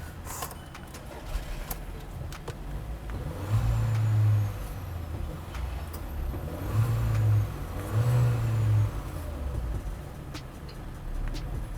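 A Volkswagen Polo 1.2 with key ignition turns over and settles into a steady idle, a low continuous engine rumble with a couple of slight rises in revs, with no voices.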